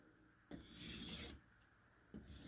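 Knife blade drawn across the coarse side of a sharpener loaded with polishing compound to remove the burr, one close, gritty rasping stroke followed by the start of another in a quiet room.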